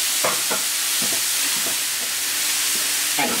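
Pork steaks cut from ham sizzle in a hot pan, a loud steady hiss with a few scattered utensil clicks and small pops, close and without talk.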